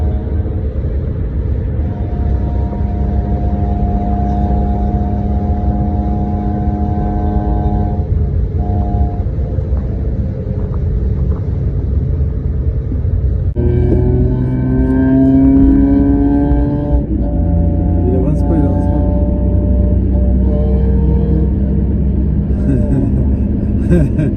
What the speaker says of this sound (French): Écoute la Civic, elle avance pas.